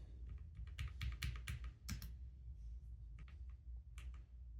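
Crisp, fairly quiet keystrokes on a Lofree Flow low-profile keyboard with Phantom switches, irregular taps and short bursts of typing with no talk.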